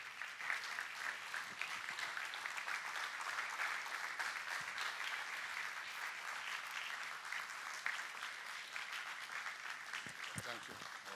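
An audience of ladies and gentlemen gives a warm, sustained round of applause welcoming Dr. Cosmas Maduka onstage, dense clapping holding steady throughout with a few louder claps near the end.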